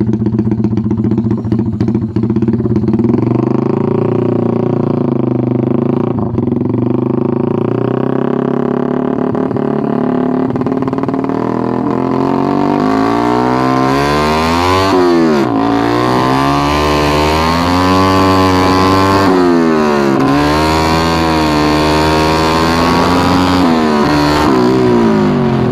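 A Honda XRM motorcycle bored from 110 to 130cc with a big-valve setup revs hard, its engine note rising and falling through several long sweeps, loud and close, over a steady running drone.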